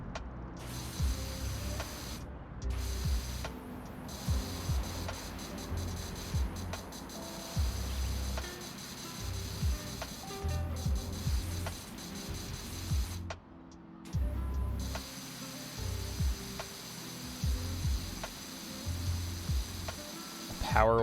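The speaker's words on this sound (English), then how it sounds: "Power washer." A power washer spraying in the video game PowerWash Simulator, a continuous hissing jet that cuts in and out in bursts, with someone talking over it at times.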